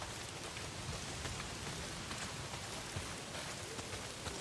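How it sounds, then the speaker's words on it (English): Heavy rain pours down steadily in the video game Days Gone, a dense, continuous hiss of drops with no pauses and no voices. "Well, not if it's pissing down rain."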